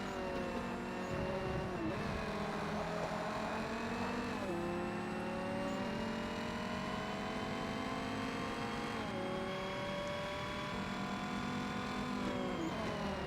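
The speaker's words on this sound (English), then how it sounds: "this sounds like a regular Forza Motorsport V10" A V10 race car engine in Forza Motorsport drones loud and steady throughout, its pitch climbing and dropping through gear changes with continuous revving and no pause.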